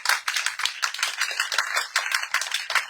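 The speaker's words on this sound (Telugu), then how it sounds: "గట్టిగా చప్పట్లు కొడదామా?" A church congregation claps loudly together in a steady, rapid stream of sharp hand claps that carries on without pause, close and energetic, with no talking over it.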